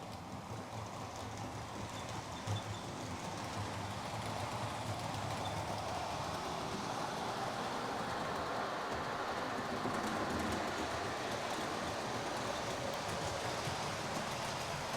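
A model train runs along the track of the Chadwick Model Railway, giving a faint, steady rolling rumble with a soft wash of wheel noise that continues evenly throughout.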